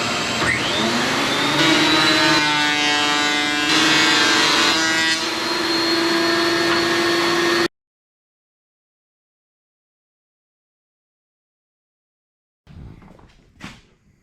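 A planer feeds rough sawn lumber for wainscoting, giving a loud, steady motor whine for several seconds before cutting out to silence, followed by a few brief knocks near the end.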